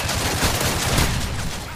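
Rapid gunfire from a video game shooter rattles on without pause, a loud and dense barrage of overlapping shots with no clear gaps.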